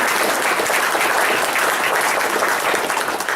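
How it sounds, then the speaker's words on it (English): Dense, steady applause from an audience at a meeting greets a school superintendent, an even wash of clapping that holds throughout without talk over it. "Let's have a big round of applause for Dr."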